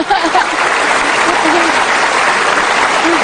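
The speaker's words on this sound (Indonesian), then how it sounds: "Oke, harus dikasih tepuk tangan itu" Studio audience applause during an Indonesian television talk show, a dense, loud, steady wash of clapping with a few faint voices mixed in.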